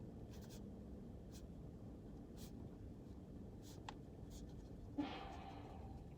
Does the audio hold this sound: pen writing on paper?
yes